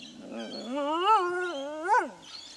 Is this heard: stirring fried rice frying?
no